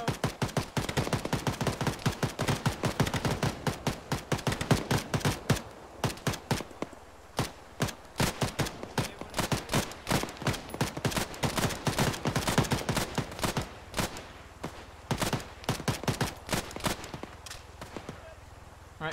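Incoming gunfire in ARMA 3, a dense string of sharp gunshots and bursts cracking loudly and near for the whole stretch, with brief lulls between volleys.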